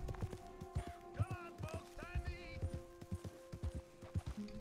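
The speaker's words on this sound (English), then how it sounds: "The horse doesn't know where it wants to go." Horse hooves clip-clopping at a steady walk in Red Dead Redemption 2, close and rhythmic, with a brief whinny-like sound and a person talking over it.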